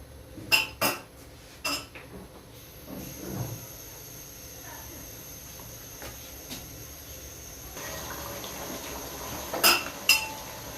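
Chicken karahi with yogurt being stirred and fried in a pan over medium-high heat, with sharp utensil clinks and scrapes against the metal pan at irregular moments over a low background sizzle.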